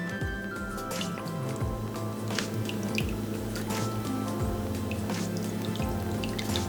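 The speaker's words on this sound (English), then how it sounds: "Now we're gonna wanna add 5 tablespoons of fish sauce." Fish sauce poured by the tablespoon into a Vietnamese bo kho beef stew, giving soft, close drips and small liquid splashes over a faint steady hum, with no talking.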